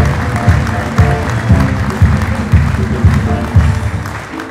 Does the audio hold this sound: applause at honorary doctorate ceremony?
yes